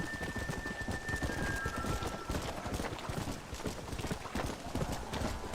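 A rainstorm on a ranch while a herd of horses is driven: dense, continuous rain noise with steady clopping of hooves mixed through it, fairly loud and unbroken throughout.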